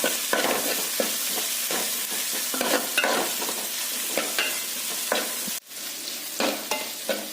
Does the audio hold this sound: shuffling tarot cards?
no